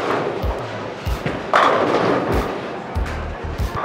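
A plastic bowling ball is thrown at a league bowling alley, giving heavy thumps and a rumbling roll amid loud alley background noise.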